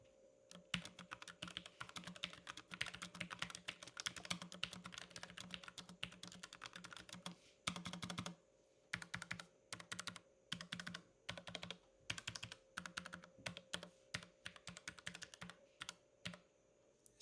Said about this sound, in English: It's a mechanical keyboard, but it's also slim, low profile. And I also got the tactile quiet switches.